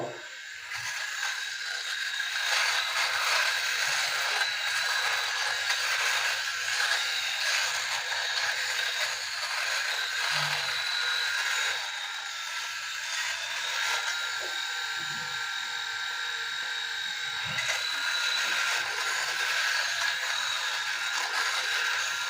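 A Philips Series 3000 electric shaver runs in a close, continuous buzzing whir that holds steady for over twenty seconds, with a few faint bumps and scrapes as it moves.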